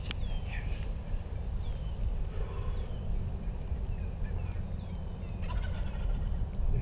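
A wild turkey gobbles repeatedly from its roost in the trees, several loud rattling calls spread across a few seconds over a steady outdoor background rumble.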